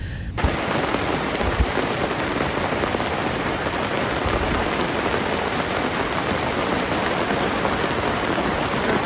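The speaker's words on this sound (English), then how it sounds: "So it's been raining." Hard rain pelts a sailboat in the Exumas, a loud, constant hiss of drops drumming on the deck and surfaces with no pauses, close and enveloping.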